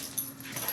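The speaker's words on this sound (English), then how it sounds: "He's trying to play, but his bark scared." A new puppy gives a brief burst of high yips and whimpers, close and fairly quiet, less than a second long.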